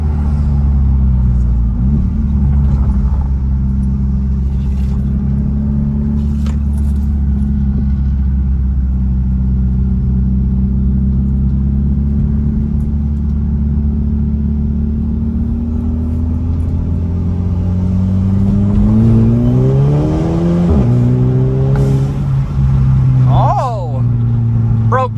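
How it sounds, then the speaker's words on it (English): A turbocharged Audi engine with a cold air intake drones loudly throughout from inside the cabin, rising in pitch as it accelerates and shifts, with turbo whooshing near the end. "it's still some nice turbo noise"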